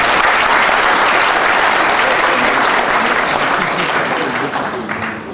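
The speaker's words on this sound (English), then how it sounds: "Please give yourselves a round of applause." A large audience claps in a sustained round of applause, dense and loud throughout before easing slightly toward the end.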